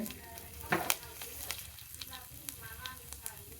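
Cumin seeds crackle and sizzle in hot oil in a pan, a soft continuous frying hiss dotted with sharp little pops and a few faint utensil taps, close but quiet.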